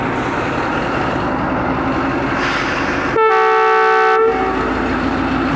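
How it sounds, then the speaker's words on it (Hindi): Departure whistle of the 122DN Ravi Express, locomotive ZCU-206422, at Lahore station: a single loud, steady horn blast of about one second, preceded by a busy platform rumble. "बेहतरीन सा डिपार्चर विसल।"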